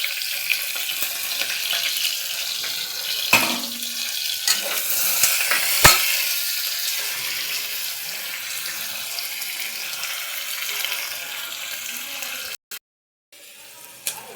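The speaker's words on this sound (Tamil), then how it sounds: "இப்போ பெரிய வெங்காயம் போட்டுக்குவோம்। பெரிய வெங்காயம் நல்லா வதங்கட்டும்।" Big onions frying in hot oil for tomato rice, a steady close sizzle with occasional stirring clatter, then a brief pause near the end.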